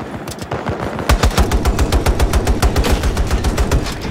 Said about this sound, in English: None of those shots hit.